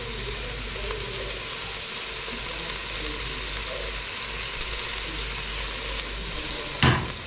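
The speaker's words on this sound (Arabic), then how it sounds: "اول ما يوصل للون ده تشوح خلاص" Sauce sautéing in a pot: a steady, dense sizzle and frying hiss running throughout, with faint stirring clatter and a brief louder scrape near the end, no talk.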